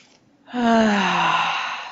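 A loud, deep inhale in a yoga class, one long drawn breath rising from quiet and held steady for over a second, close and breathy with no talk over it.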